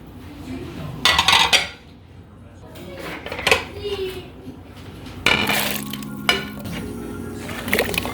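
Lamb pieces and yakhni spices tip into a cooking pot with loud clanks and metallic scrapes, in short bursts that end in a longer rattling stretch of pot-and-utensil clatter near the microphone.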